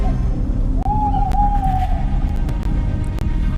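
An owl perched on a car roof in a forest at night gives a single drawn-out hoot near the start, held for over a second against a low ambient rumble.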